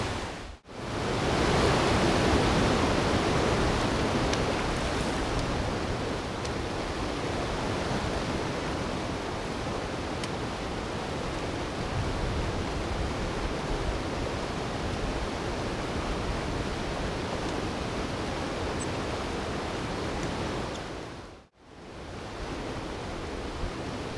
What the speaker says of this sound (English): where there was so much noise from the river